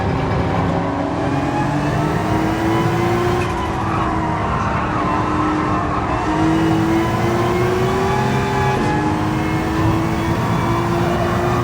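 A race car engine in a racing video game revs steadily and loudly, its pitch climbing then dropping sharply at gear shifts, with tire squeal mixed in and no talking.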